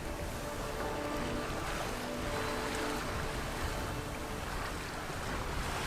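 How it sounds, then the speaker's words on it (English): A sailboat on a beam reach in the Gulf Islands in about 12 knots of northerly wind, with steady broadband rush of wind and water and waves washing along the hull, constant and close, with no talking. "We sail west on a beam reach with the wind from the north."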